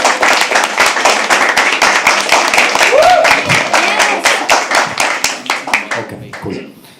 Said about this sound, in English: Can we all clap for them?